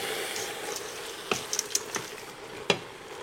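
Lentils being stirred in a cooking pot over low background cooking noise, with a few light scrapes and clinks of the spoon against the pot scattered through the moment.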